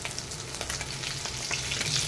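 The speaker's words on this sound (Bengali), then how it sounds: "তো এখন এই যে মাছ ভাজতে দিছি" Fish fries in a pan with a steady, crackling sizzle and light popping throughout a short stretch, with no voices.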